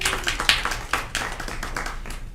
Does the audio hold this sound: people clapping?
yes